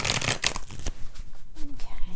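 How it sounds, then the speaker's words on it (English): Crisp, rapid riffling and flapping of tarot cards being shuffled close up, in several quick bursts. "let's do 3 shuffles, 3 more shuffles"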